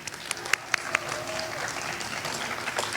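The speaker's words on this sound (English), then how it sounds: "Let's give him a round of applause." An audience at an award ceremony gives a few sharp, close claps that quickly give way to a low crowd murmur, with some talking underneath.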